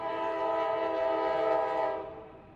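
A short train passes by on a road crossing, its horn sounding as a steady harmonic blare that swells, peaks near, then fades as the train moves away, with rail rumble beneath.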